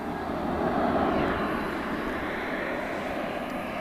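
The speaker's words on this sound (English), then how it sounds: "It is the aforementioned Atlas Air, flight 7554. 747-400." An Atlas Air Boeing 747-400 passes at DFW Airport at night, its four engines producing a dense, moderately loud rumbling roar that holds steady throughout, with no one speaking.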